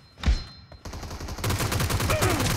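Rapid gunfire in the battle royale game PUBG during a team deathmatch, a burst of shots followed by sustained automatic fire that fills the clip, loud and close, with a faint voice underneath.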